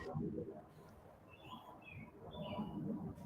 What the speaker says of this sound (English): There's birds chirping in my area.